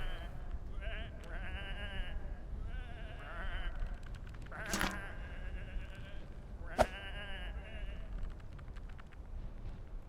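Sheep bleat in the video game Whateverland, several wavering cries rising and falling over a low game ambience, with two sharp bursts in between.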